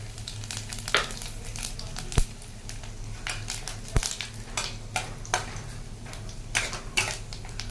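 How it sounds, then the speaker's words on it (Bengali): Bay leaf, panch phoron and dried red chillies sizzling in hot oil in a pan, a steady close sizzle with frequent crackles and pops and a few sharp metallic knocks against the pan. "আমি এখানে তেজপাতা পাঁচ ফোড়ন আর শুকনো লঙ্কা নিয়ে নিচ্ছি এটা কিন্তু আমার ফোড়নের জন্য"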